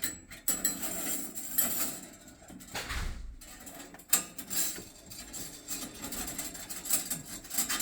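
A cleaning tool scrapes up and down inside the flue of an LP gas refrigerator during annual maintenance, giving repeated close metallic rattles and scraping strokes with a few louder knocks.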